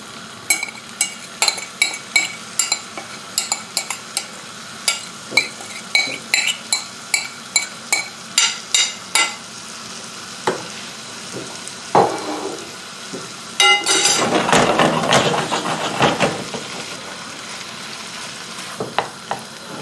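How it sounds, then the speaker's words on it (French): Shrimp go into melted butter in a pan: first a run of sharp rhythmic clinks and taps of utensils, then a sudden loud burst of close sizzling as the shrimp hit the hot butter. "quand mon beurre est bien fondu, je vais rajouter mes crevettes"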